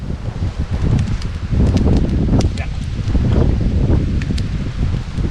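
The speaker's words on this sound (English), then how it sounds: "the wind is pretty strong" Strong wind gusting outdoors beside a fire at night in Amed, Bali, a steady loud rushing and rustling with crackly bursts, while people talk nearby.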